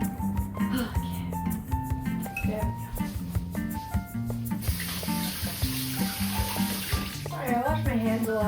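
A kitchen tap runs while hands are washed at the sink, a steady stream of water under background music and some clinking, with a brighter rushing burst partway through.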